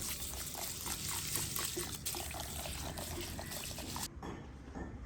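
Rice being washed by hand in water for chicken fried rice, a steady busy swishing and trickling of water and grains that runs for several seconds close up, then cuts off abruptly near the end.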